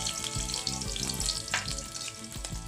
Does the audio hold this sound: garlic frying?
yes